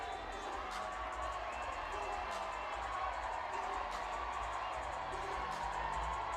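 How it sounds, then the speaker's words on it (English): A large arena crowd in Detroit gives a sustained ovation during a boxer's entrance before a professional bout, a steady, dense roar with scattered whoops and shouts rising over it throughout. "now you hear the ovation of the crowd"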